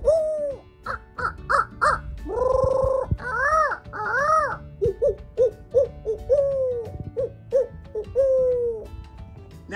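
Person imitating owl-like hoots and other bird calls: a string of short, pitched, wavering hoots and drawn-out wails in an irregular rhythm, close and clear, with no speech.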